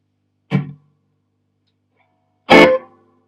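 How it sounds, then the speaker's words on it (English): A Fender Champ 12 amplifier cabinet is knocked twice, each knock setting off a loud spring reverb crash. The second hit is louder, with a metallic rattling tail that rings briefly before silence. "when we knock the cabinet, you can hear the spring."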